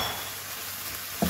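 Minced beef and tomatoes fry in oil in a pan, a steady soft sizzle running throughout with a brief stir or clatter near the end.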